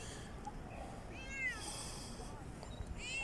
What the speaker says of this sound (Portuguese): tem um gato aqui. Alguém abandonou um gato aqui.